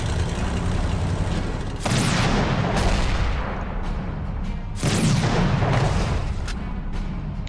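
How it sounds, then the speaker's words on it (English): Artillery pieces firing in a strategy video game: two heavy booming salvos with long rumbling decay, spaced a few seconds apart over a constant low battle rumble, loud and close. "now my artillery pieces are in place to start hitting straight back"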